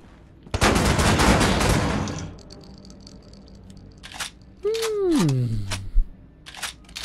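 Dual shotguns firing in Wolfenstein: The New Order: a loud, dense burst of overlapping blasts lasting about two seconds, followed by quieter clatter and a falling, whooshing game effect.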